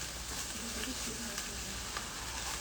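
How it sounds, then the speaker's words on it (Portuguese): Shredded pork leg sizzling and frying in a pan, a steady, close hiss of hot fat with faint stirring, no voices. "Vou colocar aqui na panela um pouco desse nosso pernil desfiado."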